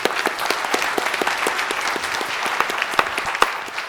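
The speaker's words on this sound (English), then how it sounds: "Give him a round of applause." At a conference plenary session, an audience gives a round of applause for a program committee member, steady close clapping with a few sharper individual claps standing out, continuing for a few seconds.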